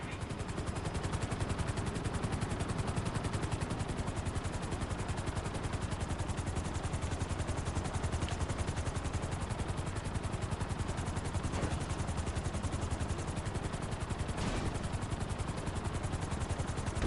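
Helicopter in Grand Theft Auto V setting down on a landing pad, a dense steady rotor and engine roar that stays loud and close throughout with no talking.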